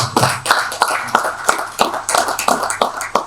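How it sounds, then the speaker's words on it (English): An audience at the ELAN 21st National Lease Conference applauds, sharp individual claps popping out of a dense, steady patter, close and fairly loud with no talk. "let's give him a big round of applause"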